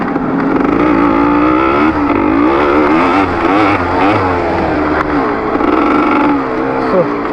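A 2-stroke Suzuki ER 185cc and a Honda MTX125R race off-road, their engines loud and close, revving hard with a continuous rising and falling buzzing whine throughout.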